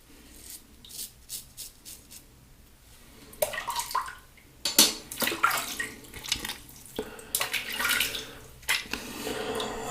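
Water splashing and running as a lathered synthetic badger shaving brush is rinsed in a sink, in irregular bursts with rubbing of the soapy knot between quieter gaps.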